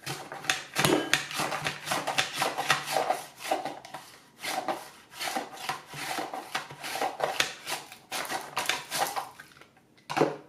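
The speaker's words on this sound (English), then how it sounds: "If you want to slice something smaller like these cute peppers, you can stick them right in the holder." Small peppers slide back and forth over a Swissmar Borner V-slicer mandoline, making a steady close rhythmic rasping of repeated slicing strokes.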